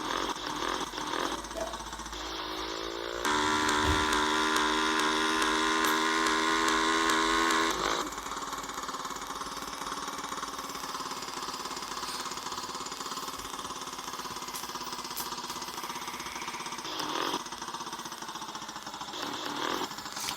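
A small motorcycle idles in GTA, a steady, continuous engine drone running throughout at even loudness, with a louder, harsher burst in the early seconds.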